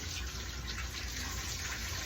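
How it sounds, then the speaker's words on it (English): Tap water runs steadily through a kitchen strainer, rinsing baking soda off food, a continuous near splashing gush with no talk. "you can just pour this for the strainer there, and run that so you get rid of the baking soda"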